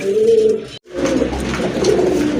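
A pair of Gorra pigeons coo continuously, with low, throaty rolling calls close by and a brief gap of silence early on.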